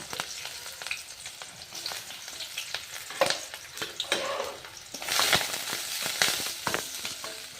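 Onions hit hot tempering oil with cumin and mustard seeds for a North Karnataka avarekai palya, frying with a close, continuous sizzle and crackle, punctuated by stirring scrapes and a louder burst of spitting partway through.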